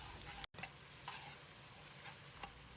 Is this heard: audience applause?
no